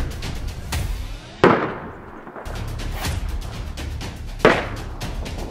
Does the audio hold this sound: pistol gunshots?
yes